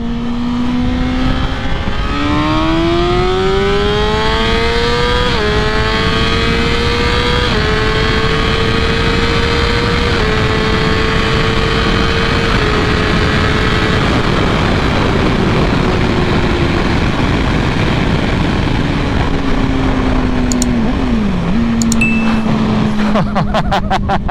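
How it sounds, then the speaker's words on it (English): Honda CBR600RR sport motorcycle, a 2016 model, accelerating hard in second gear on a speed run, its engine note climbing steadily in a loud continuous rising whine with wind noise, close up and without talk. "why not go on ahead and get a speed run out of the way, shall we? Second gear."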